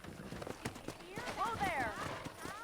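Horse hooves galloping in Red Dead Redemption, a quick clip-clop rhythm close by, with a whinny-like call and a voice talking over it.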